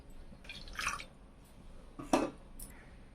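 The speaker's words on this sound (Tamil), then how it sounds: "சர்க்கரை முங்குற அளவு தண்ணி ஊற்றினா போதும்." Water is poured over sugar in a pan while making sugar adhirasam, heard as two short, quiet splashing bursts in an otherwise hushed kitchen.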